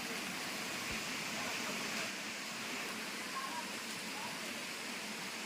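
Light rain falls steadily at a village Buddhist site in Khandapada, Nayagarh, a soft continuous hiss that stays faint and even, with barely any voice.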